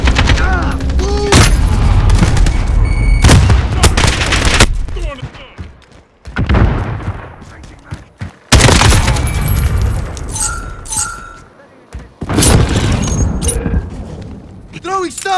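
Grenade and stun grenade blasts boom amid bursts of gunfire in a Call of Duty: Modern Warfare multiplayer match at a train station map, loud and repeated with brief quieter gaps, while voices call out over the action.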